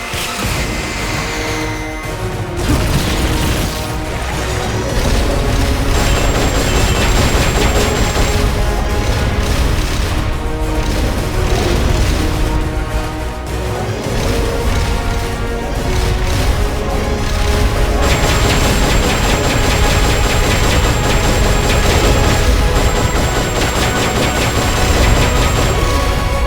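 Heavy booming blasts from rocket launcher fire in Metal Gear Solid: Peace Walker, with rumbling impacts and crashes sustained loudly for most of the stretch over game music and effects.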